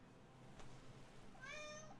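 A cat gives a single short meow near the end, faint and close, over a low steady background hum.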